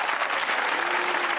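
Studio audience applauds on a Pakistani TV comedy talk show, a brief, dense burst of many hands clapping at steady volume, with no talk over it.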